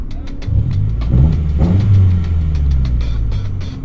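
A Subaru Impreza Sport engine fitted with a lightweight water pump pulley revs up and settles in a smooth, loud, close rise and fall of engine tone with a few rhythmic ticks.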